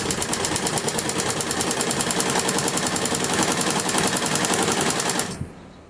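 A sewing machine runs a fast, steady straight stitch while sewing pleats into a salwar, its close, rapid mechanical chatter continuing for about five seconds before stopping abruptly.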